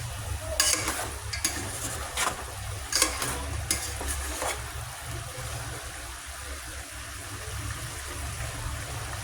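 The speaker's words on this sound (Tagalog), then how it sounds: "kumukulo na yung ating sinangkot siya. Then, haluin muna natin." Sautéed chicken for chicken tinola is stirred in a hot pot, with scraping and clattering strokes over a steady sizzle and bubbling, close and fairly loud with no talking.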